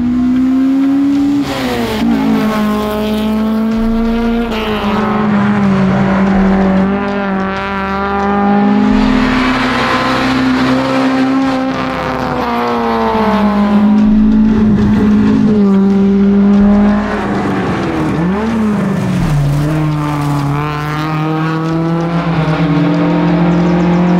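Toyota Corolla rally car, a former gravel car, racing on a tarmac stage at TARGA Great Barrier Reef, engine loud and close with repeated revving, gear changes and brief tire squeal over a continuous run.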